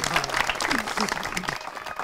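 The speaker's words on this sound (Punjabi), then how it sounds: "ਇੱਕ ਵਾਰ ਜ਼ੋਰਦਾਰ ਤਾੜੀਆਂ" Audience clapping at a village gathering in Panj Grain Kalan, Faridkot, with steady applause for about two seconds and some voices mixed in under it.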